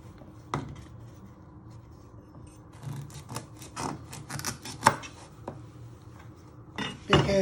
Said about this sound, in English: You first want to chop the ends off.